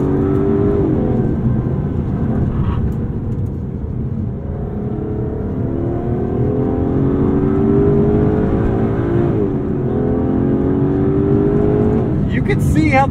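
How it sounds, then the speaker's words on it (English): A loud, sustained V12 engine roar from an Aston Martin DB11 climbs steadily in pitch as it accelerates hard, with a brief dip and another surge. "This engine has so much in it. It does not yield, it just keeps pushing."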